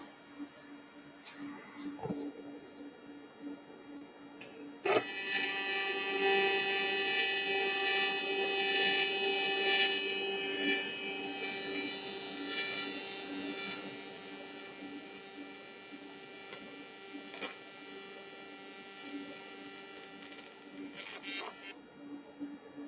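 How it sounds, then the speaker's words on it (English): Arc welding on a sheet metal intercooler ring with filler added, a steady loud crackling buzz starting abruptly after a quieter lead-in and running for about seventeen seconds before cutting off. "So we just welded up this ring."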